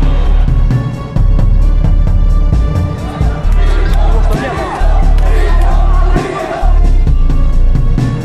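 A large outdoor crowd shouts together in loud, rhythmic bursts, with brief lulls between the chanted phrases and general babble underneath.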